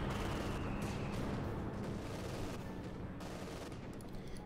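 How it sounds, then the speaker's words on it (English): Artillery fire and small-arms fire in Company of Heroes 2, a World War II strategy game. A continuous loud din of distant booms and gunfire rumbles with a dense low end throughout. "More artillery around the centre. Lots and lots of artillery fire."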